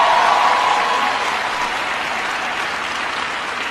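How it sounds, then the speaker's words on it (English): A university audience gives loud, dense applause for Aubrey after her introduction, sustained clapping from many hands that eases off gradually over a few seconds. "Can everybody please give Aubrey a big round of applause for the great introduction?"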